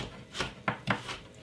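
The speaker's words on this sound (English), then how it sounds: "can put some white onion. Very good. And I'm cutting up it very small" A knife finely chops white onion on a board, giving a few soft, quick cuts in an uneven rhythm, close and fairly quiet.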